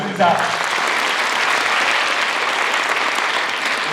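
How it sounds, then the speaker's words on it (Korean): Sustained audience applause at a Korean unification rally, honoring VIP guests; dense, steady clapping from a large crowd fills the whole stretch, loud and continuous without letting up. "I want to give all of you a round of applause."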